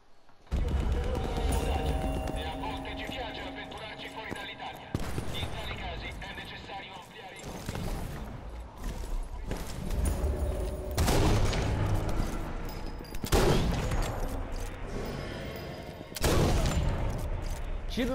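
Gunfire in the sniper shooter game Sniper Elite 4 sounds as repeated loud booming shots with rumbling tails, spaced several seconds apart, while a player talks in Portuguese over the game audio.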